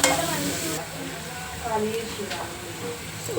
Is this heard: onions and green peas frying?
yes